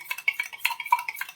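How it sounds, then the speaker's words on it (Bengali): Eggs whisked with salt in a bowl for a Kolkata street-style egg roll, a quick rhythmic series of light metallic clinks and taps, close and clear with no talking. "ভালো করে ফেটিয়ে নেব।"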